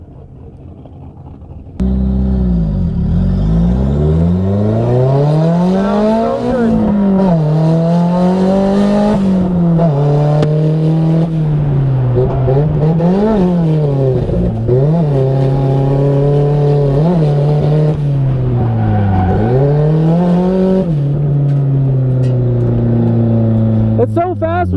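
Unique drift car driven from the cockpit at a busy track, its engine revving hard and loud throughout with rising and falling pitch swings as the car is thrown around, tires faintly squealing underneath, with people talking over the engine.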